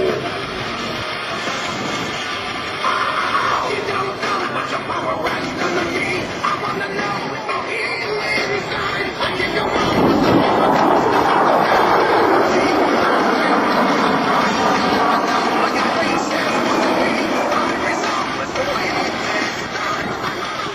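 A-10 Warthog jet performing a slow roll at an air force base air show, a loud sustained engine roar that swells as it passes near, with an announcer talking over it throughout.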